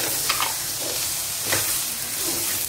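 Coconut and jaggery roast in a pan for kozhukattai filling, with a continuous soft sizzle and repeated scraping stir strokes close by.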